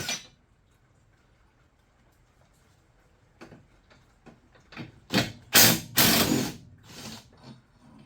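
A ratchet works bolts loose from the angle-iron brackets of a Yamaha Drive G29 golf cart. Faint scattered clicks give way to several loud, close bursts of rapid ratcheting near the end.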